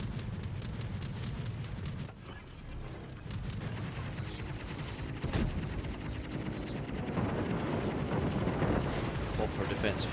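Defensive gunfire rattles in a video game, dense rapid bursts layered with heavier booming shots, continuous and loud, with a player talking over the battle.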